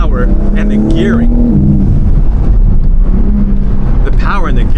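A BMW M3 Competition engine pulling hard on a public street, a loud, steady drone with rising pitch sweeps heard from inside the cabin, with someone talking over it.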